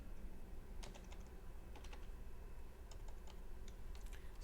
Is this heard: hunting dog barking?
no